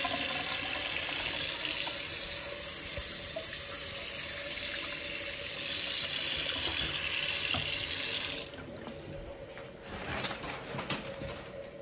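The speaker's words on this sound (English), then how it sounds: "Let me just turn the water on here." Water runs steadily from a bathroom tap in a house on Jacksonville's Historic Eastside, a constant broadband hiss that drops to a quieter trickle near the end, with no talking.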